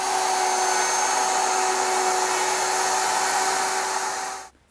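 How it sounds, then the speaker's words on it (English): A router with a small mortising bit whines at a steady high pitch while cutting soft pine, loud and close, then stops abruptly at the end. "now I'm going to use my router with a small mortising bit to remove most of the material"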